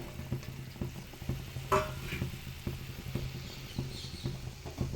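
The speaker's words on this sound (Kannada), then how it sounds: "ಸೇಮಿನ ಸೇರಿಸ್ಕೊಂಡು ಈಗ ಸ್ವಲ್ಪ ಮಿಕ್ಸ್ ಮಾಡ್ಕೊಳ್ಳೋಣ" Vermicelli being stirred into boiling milk for payasam, a soft scraping and bubbling patter with a few light knocks, close and quiet, no talking.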